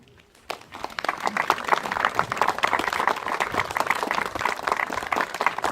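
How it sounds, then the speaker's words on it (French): Audience clapping at an outdoor commemoration ceremony for the Battle of the Terril in Fontaine-l'Évêque, applause starting abruptly after a brief quiet moment and continuing steadily from many hands. "je demande d'applaudir"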